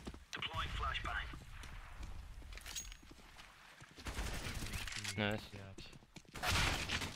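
Gunfire in a first-person shooter video game, bursts of shots cracking amid clattering effects, with players talking over the action.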